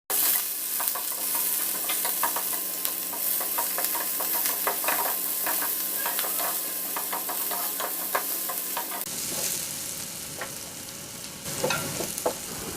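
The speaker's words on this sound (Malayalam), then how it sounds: "ഇനി ഇതിലേക്ക് ചെറുതായി അരിഞ്ഞു വെച്ച സവാളയും പച്ചമുളകും ചേർത്ത് ഒന്ന് നല്ലപോലെ" Chopped onion and green chili stir-fried in a pan for a Kerala-style carrot stir fry, with steady loud sizzling and repeated scraping and stirring clicks throughout, no talk.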